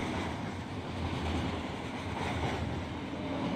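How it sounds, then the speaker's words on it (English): Train rolling by in the Run 8 Version 3 rail simulator, a low steady rumble of cars passing, moderately faint and continuous with no voices. "being able to hear the Slack action when other people are working trains. That's pretty cool. Sounds like you hear the new roll-by sounds"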